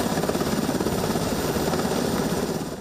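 A Black Hawk helicopter carrying Polish police officers during a hostage-rescue exercise produces a loud, continuous rotor thrum with rapid blade chop, steady throughout and fading slightly at the end.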